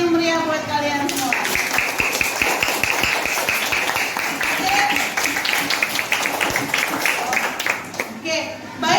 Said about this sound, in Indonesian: berikan tepuk tangan yang meriah buat kalian semua